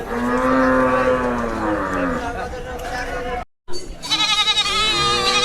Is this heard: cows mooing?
yes